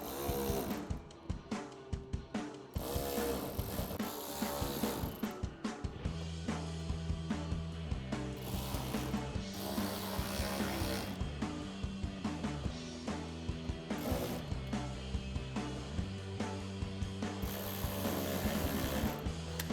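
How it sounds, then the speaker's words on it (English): A ratchet clicks rapidly and repeatedly while a Phillips socket tightens screws on OEM-style fender flares for a 2009-2018 RAM 1500, with bursts of dense ratcheting broken by brief pauses, close and fairly loud throughout. "We're gonna grab that Phillips head screw socket or your Phillips head screwdriver, and we're gonna go around and tighten up all of our screws."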